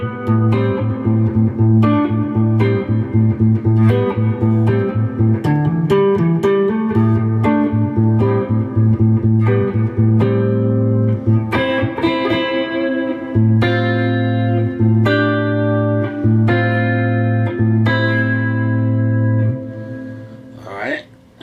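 A clean, unprocessed electric guitar plays a run of plucked notes and chords, close and dry, with the final note decaying at the end; no talking over the playing.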